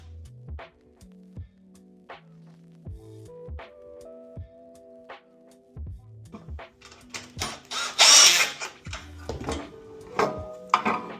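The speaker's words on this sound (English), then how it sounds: "I have the torque setting turned down on my drill low." A power drill on a low torque setting tightens bolts into a plastic gimbal, whirring in short repeated bursts, pausing between each, followed by louder rattling and clanking of metal parts near the end.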